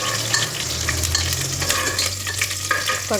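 Dry red and green chillies fry in hot oil for sambar, giving a steady close sizzle with spoon stirring and a low burner hum throughout.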